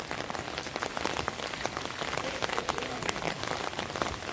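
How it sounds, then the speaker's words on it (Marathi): Steady, heavy rain pours down in a continuous dense patter with scattered sharper drop hits, close and fairly loud throughout with no voices. "सकाळपासून चालू आहे पावसात"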